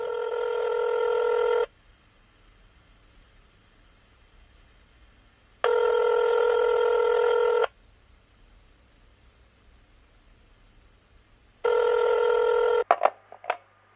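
A telephone rings during a call to a father: three long, evenly spaced ring tones separated by quiet pauses over faint background hiss, ending with a short clatter.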